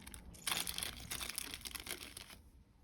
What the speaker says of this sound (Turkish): Şu şekilde plastik parçalar çıkıyor.